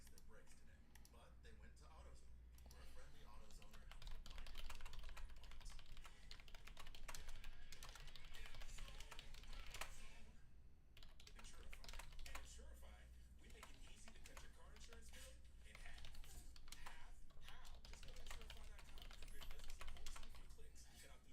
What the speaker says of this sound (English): I'm like typing a shortened version of it now